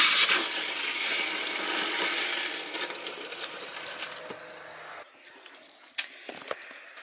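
A camper's water pump runs steadily while pushing antifreeze through the plumbing, a broad continuous hum and hiss that drops off near the end, leaving faint clicks and small knocks.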